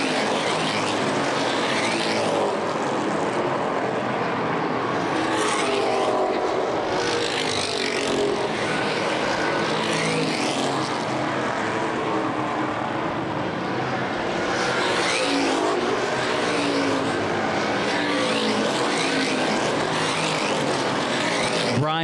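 Street stock race cars roar around Winchester Speedway, engines droning continuously with repeated surges as cars pass by, under a steady wash of crowd and engine noise.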